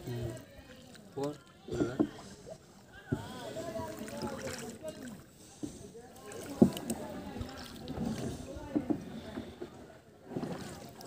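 A boat being rowed with a wooden paddle, irregular splashing and watery strokes heard close by under frequent talking voices.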